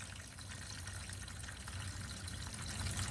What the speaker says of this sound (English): The water flows backwards.